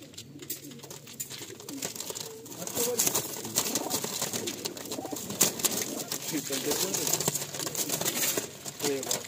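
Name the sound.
high flying pigeons cooing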